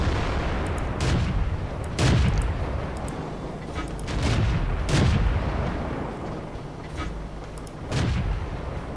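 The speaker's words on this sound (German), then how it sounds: "Ups, zu früh geschossen." Tank cannons in the video game World of Tanks fire in heavy, booming shots, about five or six spaced a second or two apart, each a loud thud with a rumbling tail over steady battlefield noise.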